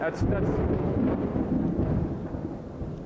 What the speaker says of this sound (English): We have our little afternoon Florida storm here that's interrupting